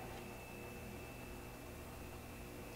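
A Cincinnati-Milacron Monoset Model MT tool and cutter grinder runs quietly as a low, steady motor hum with a faint constant whine and soft background noise, with no voices.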